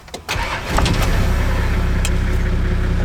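A turbo TD42 4x4 diesel engine cranks briefly, catches and settles into a loud, steady idle, heard up close.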